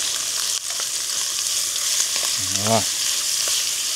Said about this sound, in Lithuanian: Mėsytę kepam.